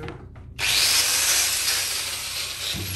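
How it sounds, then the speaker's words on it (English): A power grinder in a boat workshop whirs up abruptly and then runs at a steady, loud, high-pitched whine, with no talking over it. "And this grinder."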